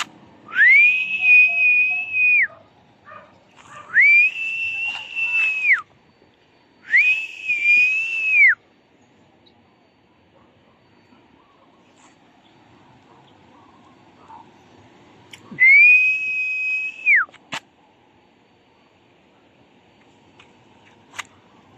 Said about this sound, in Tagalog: Sipol tayo.